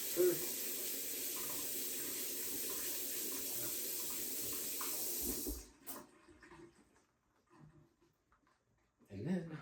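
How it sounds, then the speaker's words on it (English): Tap water runs steadily into a kitchen sink while a pastry butter brush is rinsed, a close continuous hiss that cuts off abruptly partway through, followed by quiet handling and a brief clatter. "I'm going to give it a quick rinse first"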